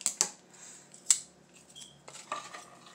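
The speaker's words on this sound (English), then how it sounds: "And they're easy to cut with your scissors." Scissors snip through a large wooden popsicle stick during a craft project, a few sharp close cracks and clicks spaced apart in a quiet room.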